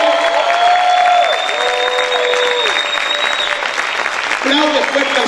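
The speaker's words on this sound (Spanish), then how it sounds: "Aplaude fuerte al Señor." A church congregation applauds loudly for the Lord during a worship service, a broad roar of clapping mixed with sustained tones of music and raised voices, full and continuous throughout.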